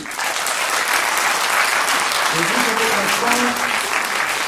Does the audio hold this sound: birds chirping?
no